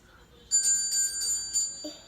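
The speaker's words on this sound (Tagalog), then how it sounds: "You listen to the sound of the bell" A small bell rings a few quick, bright strokes over about a second, close and moderately loud, with a brief rustle of handling at the end.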